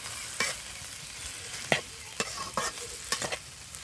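Jackfruit seeds and cooked spices being stirred in a frying pan: a soft, steady sizzle broken by several sharp scraping strokes of the spoon, close and alone.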